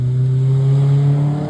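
Nissan S13 coupe engine running loud and steady at close range, a deep droning idle-like rumble with strong low harmonics holding without a break and no talk over it.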